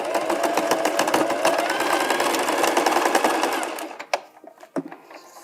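A sewing machine stitching along the edge to secure elastic, running in a loud, steady continuous whir for about four seconds before stopping, followed by a few sharp clicks and knocks.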